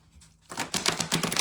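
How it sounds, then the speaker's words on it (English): Tarot cards are shuffled up close after a brief quiet moment, a rapid burst of crisp papery flicks and clicks that continues to the end. "Give the cards a good shuffle to see what this energy is bringing."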